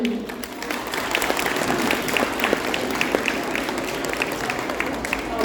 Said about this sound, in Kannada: ಅವರನ್ನು ಚಪ್ಪಾಳೆಯಿಂದ ಸ್ವಾಗತಿಸಿ